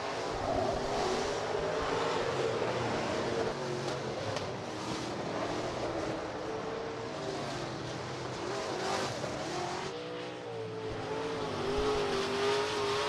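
Late model street stock race cars roar around Rapid Speedway during a heat race, engines droning and revving continuously as the pack passes, with a brief dip in the noise before the roar rises again.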